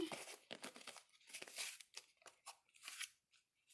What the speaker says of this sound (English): I'm going to take my marker and crease the cardboard